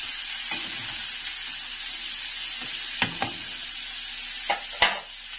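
Pechay and Baguio beans sautéing in a pan, a steady soft sizzle running throughout, broken by a few sharp utensil clinks and scrapes near the end as the vegetables are stirred.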